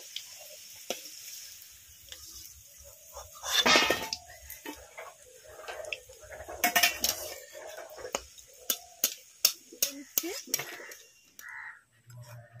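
Fish patties are turned over in a frying pan with scattered metallic clinks of a spatula against the pan and a soft sizzle beneath, while a voice talks intermittently.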